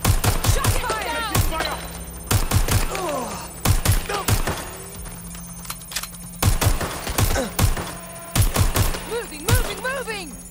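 Rapid gunfire bursts and single shots in Watch Dogs Legion, loud sharp cracks repeating in clusters across the scene, with faint game sounds and whistling tones between volleys.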